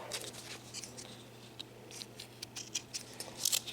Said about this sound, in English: you take a pair of scissors and you cut all this extra fabric off